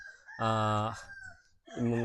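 A rooster crows nearby, a loud drawn-out call that breaks off and then starts again, fairly clear against a quiet background.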